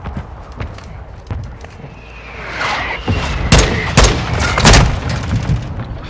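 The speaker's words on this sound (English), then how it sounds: "Hostile mortar strike in the area." Mortar strike in a shooter video game: a run of heavy booming blasts and cracking impacts rolling in over several seconds, loud and close, with scattered gunfire in between.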